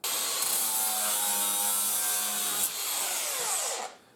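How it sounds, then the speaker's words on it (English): An angle grinder sands the edge of a London taxi conversion part, a loud, continuous high whine with abrasive rasping held for about four seconds before spinning down. "The angle grinder never lets you down."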